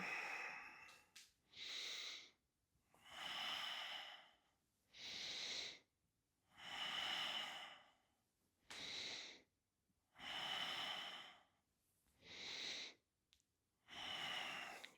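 Slow, deep breaths during seated chair yoga, a long inhale and a long exhale repeating about every two seconds, close and clear with no talking.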